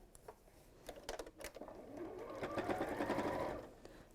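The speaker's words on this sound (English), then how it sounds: "I'm just going to sew that in the seam allowance" A sewing machine runs tack stitches through fabric in a bag's seam allowance, in short close bursts that build into a steady whirring run and then stop, with faint bird coos far off.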